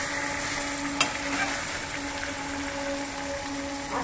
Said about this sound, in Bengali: দেখতে পাচ্ছেন আপনারা চিকেনগুলিকে ভালো করে কষানো হচ্ছে।